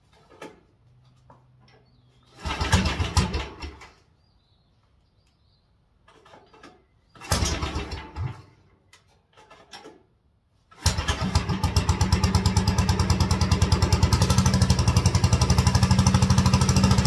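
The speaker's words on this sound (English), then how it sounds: "That was a total cold startup." A 1957 Wheel Horse RJ35 garden tractor engine on a cold start: two short cranking bursts with pauses between them, then the engine catches and runs loud and steady, close by.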